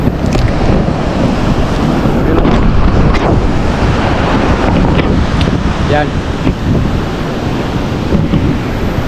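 Strong sea waves crash steadily on a beach shore with dense roaring surf and heavy wind buffeting the microphone, while someone speaks over the noise.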